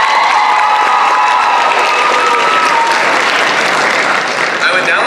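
A large audience at an FFA state convention gives a loud, sustained round of applause, with some cheering mixed into the close, dense clapping.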